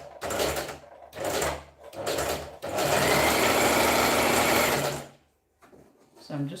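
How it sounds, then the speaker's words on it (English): A sewing machine runs in short bursts and then one long steady stretch while stitching stretchy fabric for a skirt, close and loud, stopping near the end. "I will just go ahead carefully stitch this up, making sure I align it up."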